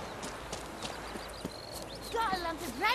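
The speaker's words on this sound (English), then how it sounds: "Oh, there you are. There we go. Faster." Horse hooves in The Witcher 3: Wild Hunt clip-clop in a quick rhythmic trot, moderately close, while a voice speaks over them near the end.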